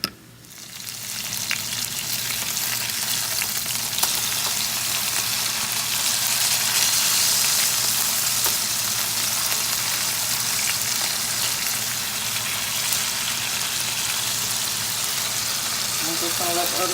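Burger patties fry in a pan with a loud, continuous sizzle that holds steady from start to finish after a brief quiet opening.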